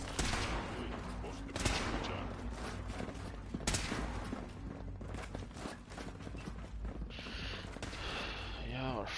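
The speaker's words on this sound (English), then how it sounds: "Y'all are firing" Rapid, overlapping gunfire in Fallout 4 keeps up a steady, noisy barrage of shots with a few louder cracks, and a voice talks underneath it.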